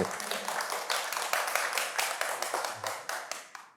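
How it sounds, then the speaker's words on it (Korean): A small lecture audience claps together, a crisp burst of hand claps that starts right away and fades toward the end, close and fairly loud with no talking. "이 점에서 우리 박수 한번 쳐주시는 게 어떨까요?"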